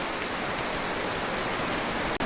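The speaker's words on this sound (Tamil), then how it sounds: "ஒரு பக்கம் மழை பெஞ்சு இருக்கு" Steady rain pours down, a dense, even hiss of drops on surfaces that continues without pause from start to finish.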